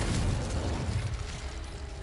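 A Confringo fire spell explodes in Hogwarts Legacy, a loud, dense blast whose rumbling roar fills the full two seconds and fades only slightly.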